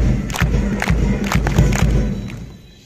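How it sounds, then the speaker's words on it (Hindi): A crowd claps and cheers loudly for the chief guest at a school principal's retirement ceremony, a dense, rumbling roar with sharp bursts that fades toward the end. "जोरदार तालियां।"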